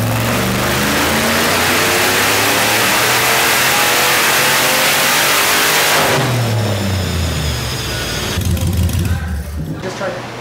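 A Mazda Miata fitted with a Hellcat engine roars through a dyno test pull. The loud, close engine climbs in pitch for about six seconds and then drops off into a lower, rumbling wind-down.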